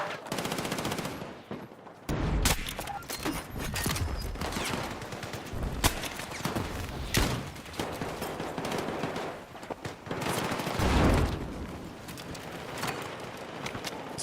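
Gunfire in the first-person shooter Battlefield 6 comes as repeated loud bursts and single cracks, with rapid automatic volleys spread across the whole stretch and no voice over them.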